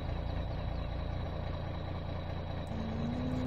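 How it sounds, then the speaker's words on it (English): A Ferrari 458 engine in the video game Farming Simulator 17, a steady low rumbling idle with a faint rising whine near the end, continuous and fairly quiet. "this is a very loud Ferrari"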